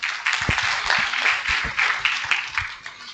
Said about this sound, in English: Let's put our hands together for him